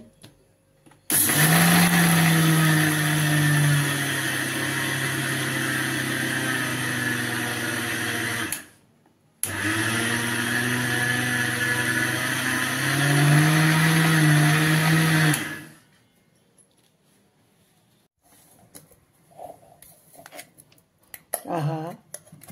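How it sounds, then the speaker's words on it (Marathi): A kitchen mixer grinder whirs loudly as it grinds sesame chutney made with chilli powder and salt. It runs in two long bursts with a short pause between them, and after it stops there are quiet clinks and handling noises. "अशा प्रकारे आपण आता हे मिक्सरमधून बारीक करून घेऊया"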